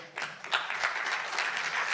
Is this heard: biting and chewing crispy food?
no